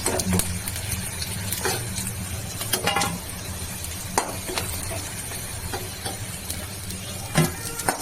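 Drumstick flower fritters (sajne phuler bora) fry in hot oil with a soft, steady sizzle, broken by occasional sharp clinks of a utensil against the pan.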